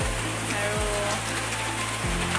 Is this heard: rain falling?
yes